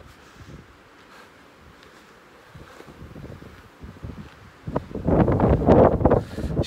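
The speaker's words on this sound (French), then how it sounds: "Je suis désolé pour le vent." Wind buffets the microphone in rumbling gusts outdoors in Cadenet, southern France, quiet at first and then swelling into loud, blustery bursts near the end.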